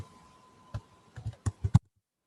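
Typing on a computer keyboard, a short burst of about six quick clacks that grow louder toward the end, close and clear against a quiet room with no talk.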